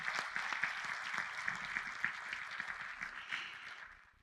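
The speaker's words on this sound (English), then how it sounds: "So another round of applause for Congressman Gonzalez." A crowd applauds for a congressman at a facility event, a dense, even wash of clapping heard from a short distance that holds steady and then fades out at the end.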